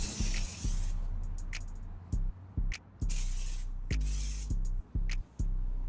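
Repeated bursts of aerosol spray paint hissing from a can onto the underside of an Infiniti G35 bumper, several short and longer sprays with brief pauses between, close and loud.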